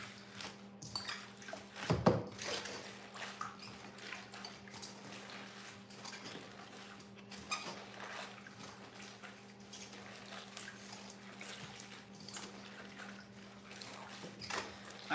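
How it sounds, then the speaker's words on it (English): Salad greens being swished and massaged by hand in a basin of water, with soft irregular sloshes and drips, a faint clink of a bowl, and a low steady hum beneath. "I basically just kind of massage the greens in here in the water, and then I just wring them out"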